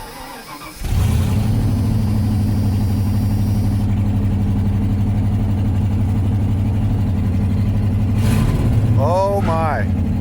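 A modified manual-transmission truck engine cranks and catches, then runs at a loud, steady low rumble close by, with a brief rev rising near the end and a voice speaking at the close.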